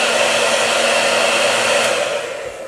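Steady, loud hair dryer blowing continuously to dry paint, a constant whooshing drone with no talking.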